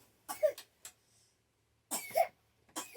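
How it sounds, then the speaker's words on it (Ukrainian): A few short, quiet coughs in two small clusters, somewhat distant, with silence between them. "Що там кашляє у нас?"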